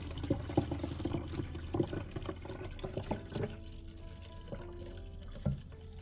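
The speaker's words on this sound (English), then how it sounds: "I put a cup of water at the bottom of that." Water pours and splashes into a juicer container nearby, with a few clunks and knocks, then the stream thins and rises in pitch as it fills.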